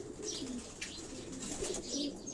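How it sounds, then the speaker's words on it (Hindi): Flying pigeons coo softly on a rooftop in Karachi, with repeated low, rolling calls at moderate distance over faint background noise. "ये तमाम जो है उड़ने वाले कबूतर हैं जी।"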